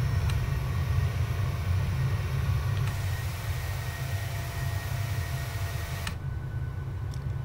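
Steady low rumble and hiss of an airplane cabin in flight, circling over Beauvais, continuous and loud with faint clicks and no talk.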